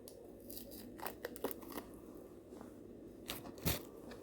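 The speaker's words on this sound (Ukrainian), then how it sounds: "І теж нарізаємо ще меншими шматочками. Можна соломкою порізати." A knife cuts pork fat (salo) into small pieces or thin strips on a board, giving a few irregular, crisp slicing and tapping sounds, quiet and close, with no talk.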